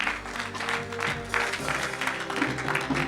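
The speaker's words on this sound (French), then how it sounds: "Acclamons." A congregation at an evangelical church service claps together in a steady, dense burst of applause that holds at an even level throughout.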